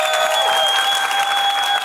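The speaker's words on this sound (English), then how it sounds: "everyone, please give a huge applause for Ika, Sia, Kamel," Audience applause at a blockchain developer conference celebrating young builders, a steady dense wash of clapping at close range with a light crowd murmur underneath, sustained without break.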